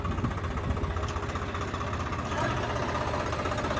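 A Swaraj 855 tractor stuck in a field idles with a steady, loud, knocking diesel chug throughout, its rhythmic thumping close and continuous.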